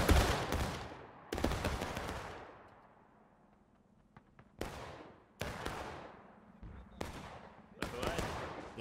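Musket volleys crash out from a reenactment battalion firing at a blue-flagged target during an EU Gettysburg reenactment, several sharp ragged bursts spaced a second or two apart, each trailing off in an outdoor echo.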